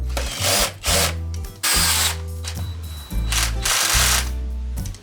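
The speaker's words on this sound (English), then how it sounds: "Tap the wall plugs into place and tighten all the screws with my drill" A cordless drill drives screws into wall plugs while fitting a replacement gate stop, giving several loud, close bursts of whirring with short pauses between them.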